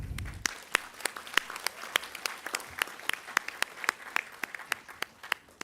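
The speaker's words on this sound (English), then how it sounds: "Graduates, today is your day. I think you deserve a round of applause." Audience clapping for graduates at a university graduation ceremony, with sharp, scattered claps over a steady wash of applause lasting several seconds, heard without talk.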